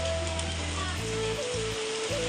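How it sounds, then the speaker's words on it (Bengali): Heavy rain pours over a rural farmyard where pigeons and quails are kept, a constant close hiss of falling water layered with a steady low droning hum. "দেখতে পাইতেছেন অনেক বৃষ্টি নামছে এদিকে।"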